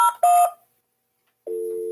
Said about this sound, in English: It's a Barbie phone.